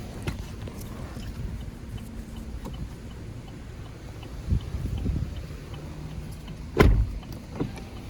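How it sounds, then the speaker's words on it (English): Power windows on a 2021 GMC Terrain SLE Elevation crossover rolling up inside the cabin, a low steady motor hum with a soft thump as the glass seats near the end, quiet and close. "Go ahead and roll up the windows,"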